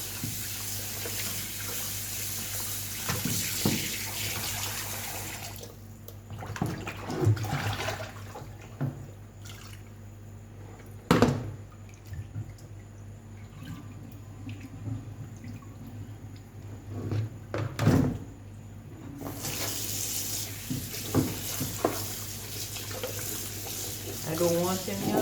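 Tap water running into a kitchen sink while meat is washed for glazed pork, a steady splashing stream with gaps, clinks and handling noises and some talk.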